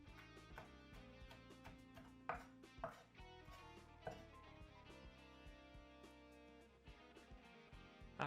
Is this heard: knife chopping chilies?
yes